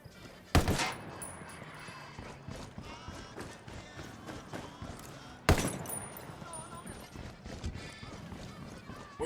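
Two sharp, loud gunshots ring out about five seconds apart in a Ghost Recon game, each standing out over quieter background movement and ambience.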